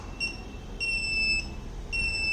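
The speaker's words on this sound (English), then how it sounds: "the beep sound is coming from this buzzer board" A piezo buzzer on a blind person's assistive walking stick gives three sharp, shrill electronic beeps of differing lengths, loud and close, with no talking.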